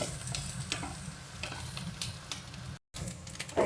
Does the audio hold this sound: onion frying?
yes